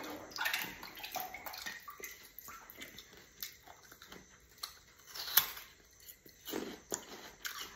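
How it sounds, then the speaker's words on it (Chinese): Hands being washed under a running tap, with a steady stream of water splashing and shifting in intensity, plus a few louder splashes, close by and with no talking. "我洗一下手啊，手可以洗。"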